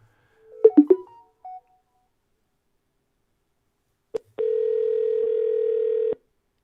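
A few short phone keypad tones are followed by a pause, then a click and a steady single ringback tone that lasts about two seconds before cutting off, close and clean with no talking.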